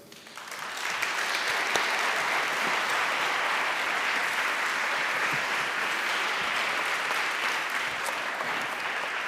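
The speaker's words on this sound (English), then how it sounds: "I urge you all to give your loudest and warmest applause to Evan Greer" An audience breaks into loud, sustained applause that swells within the first second and holds as a dense, even wash of clapping with no voices over it.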